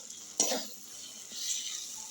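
Papaya with slit green chillies being sautéed in a pan for papaya ghonto with coconut, a sharp sizzle and stir burst near the start then a steady soft frying hiss, close and fairly quiet.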